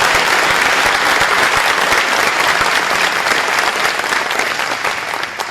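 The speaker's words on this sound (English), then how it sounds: "Give these guys a round of applause" Audience applauding the coaching staff at a college football national signing day event, steady, full clapping from a sizable crowd that holds evenly and tapers slightly toward the end.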